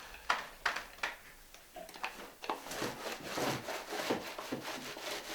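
A paint roller rubbing a second coat of sand-and-cement waterproofing membrane along the seams of a curbless shower over a concrete slab, a close, steady rolling scrape with repeated strokes and no talk.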